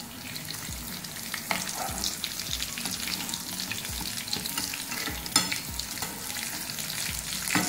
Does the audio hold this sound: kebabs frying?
yes